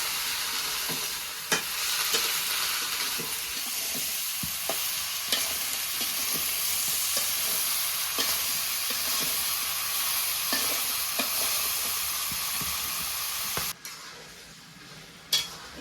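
Vegetable curry with salt and chilli fries in a pan in a village kitchen, giving a continuous close sizzle with periodic spatula scrapes and stirs. The sound drops away abruptly near the end.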